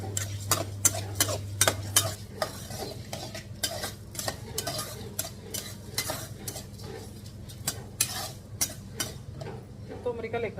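Coriander seeds being stirred and roasted in a pan in a Tulu home kitchen: a spoon scrapes rhythmically and continuously against the metal over a faint sizzle.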